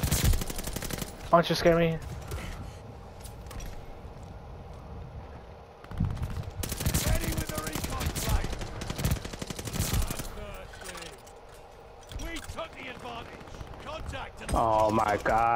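Call of Duty: Vanguard multiplayer gunfire, including M1928 and dual pistol shots, in repeated rapid bursts and single cracks, loud and close, interspersed with the player talking excitedly.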